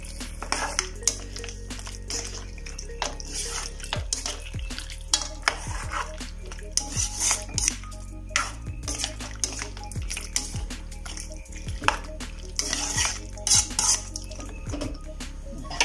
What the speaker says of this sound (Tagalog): Ilagay na natin ang ating tomato sauce. Yan, haluin ulit natin.